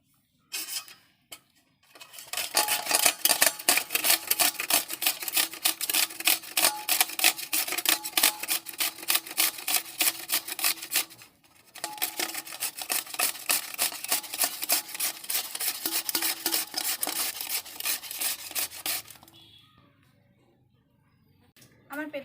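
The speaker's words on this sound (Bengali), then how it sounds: "এবার পেঁপেগুলোকে গ্রেট করে নেব।" Raw papaya pieces rubbed against a grater to make chutney, giving two long runs of quick, even rasping strokes separated by a brief pause, close and fairly loud.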